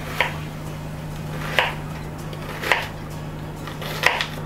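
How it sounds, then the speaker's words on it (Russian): A knife chops an onion into large cubes on a cutting board, four crisp, evenly spaced thuds about a second apart, close and clear over a faint steady hum. "лук нарежу довольно крупными квадратиками"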